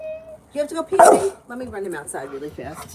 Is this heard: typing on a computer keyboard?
no